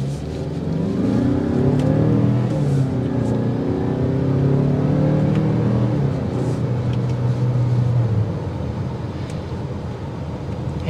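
A 2023 Mazda CX-5 Turbo accelerates on a test drive, a loud, steady engine drone rising in pitch from inside the cabin with road noise, then easing off near the end.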